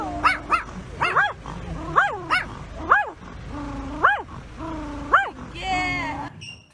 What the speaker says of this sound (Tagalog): Todo kahol ang Yorkshire Terrier sa Pomeranian na nakadungaw sa nakatabing sasakyan.